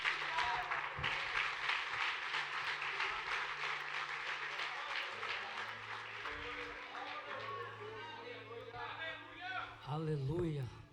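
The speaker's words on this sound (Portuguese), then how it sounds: "as palmas vão ao Senhor" A church congregation at a worship service claps in a sustained round of applause that gradually fades, while a voice keeps speaking and music sounds underneath.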